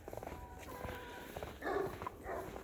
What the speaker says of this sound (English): Great Pyrenees livestock guardians is they think they need to bark at everything